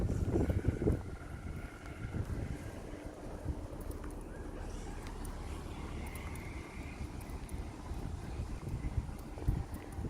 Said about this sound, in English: And it's super windy, guys